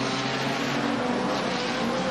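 Race cars roar steadily through turns one and two of a circuit, a loud, dense engine noise that fills the whole short stretch with no voices.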